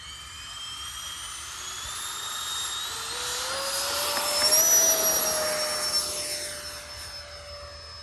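A Freewing A-10 Thunderbolt II with twin 80mm electric ducted fans spools up for takeoff with a loud, rising whine that swells toward a peak and then holds steady as it passes, with no voices.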